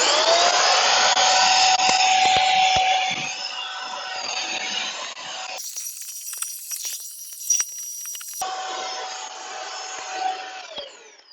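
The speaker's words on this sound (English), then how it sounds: "So let's vacuum some more." A cordless stick vacuum cleaner runs with a steady high-pitched motor whine and airy suction roar, briefly shifting to a different, thinner pitch midway before settling back, fairly close and alone without talk.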